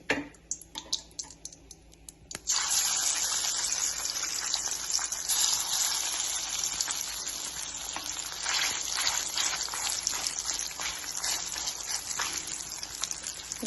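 Fish sizzles loudly in hot oil after a few sharp knocks at the start, then settles into a dense, steady crackling fry that runs close and continuous to the end.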